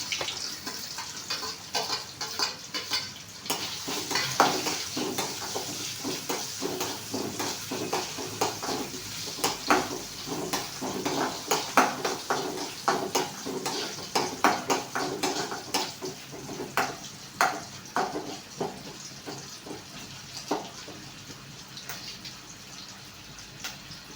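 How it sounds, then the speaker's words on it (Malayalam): Coconut pieces fry in hot oil for a beef dish, a continuous sizzle broken by repeated scraping and clattering strokes of a spoon stirring them in the pan, moderately loud and close, with no talking. "എണ്ണ ചൂടായിട്ടുണ്ട്, അതിനകത്ത് നമുക്ക് തേങ്ങ"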